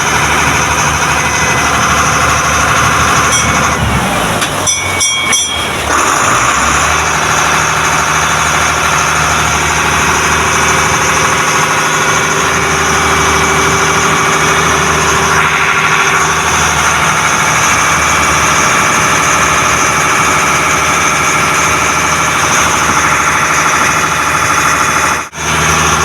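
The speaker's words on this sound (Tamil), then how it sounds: "இதுக்கப்புறம் இன்ஜின் சவுண்டு தான் அதிகமாக கேட்குங்க" A boat's engine drones loud and steady throughout a passenger boat journey from Kottayam to Alappuzha, a constant low rumble and vibration with a brief clattering disturbance early on.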